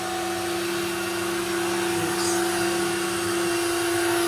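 A shop vac runs steadily in a workshop, a loud continuous whine and whoosh close by that holds even from start to finish with no talk.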